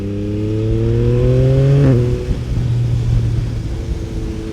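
A Yamaha MT-09 SP motorcycle, dyno tuned, rolls gradually onto the throttle from deceleration, its engine note climbing smoothly and loudly before easing back into a steady rumble.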